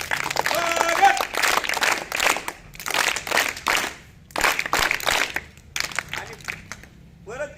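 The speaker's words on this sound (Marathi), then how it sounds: "त्याबद्दल टाळ्या वाजून त्यांचं स्वागत करूया" An audience in a school setting claps to welcome an award-winning teacher, irregular bursts of applause rising and falling with short gaps, and voices mixed in.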